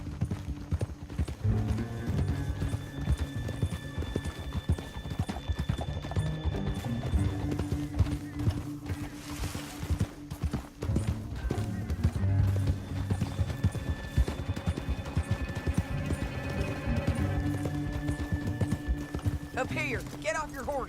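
Horses' hooves clip-clop at a steady gallop across a Red Dead Redemption 2 trail, close and continuous beneath a game music score, with a voice speaking at times over the riding.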